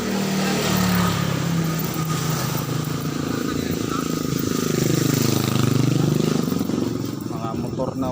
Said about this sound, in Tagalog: dito na ako sa may road na may dumadaan ng motor